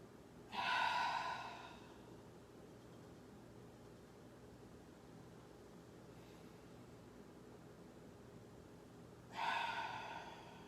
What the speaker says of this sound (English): Continue with your breathing.